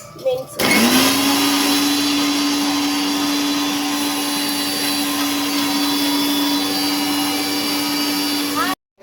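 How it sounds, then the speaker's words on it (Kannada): A blender grinds fresh coriander and mint leaves, its motor starting up and then holding a loud, steady whine for several seconds before cutting off abruptly. "ಇವಾಗ ಅಲ್ಲಿ ಕೊತ್ತಂಬರಿ ಸೊಪ್ಪು, ಪುದೀನ ಸೊಪ್ಪು ಗ್ರೈಂಡ್ ಆಗ್ತಾ ಇದೆ ಗಾಯ್ಸ್"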